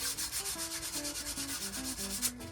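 Close rhythmic rasp of sandpaper rubbing lacquer off an old wooden axe handle, quick regular back-and-forth strokes with no voices.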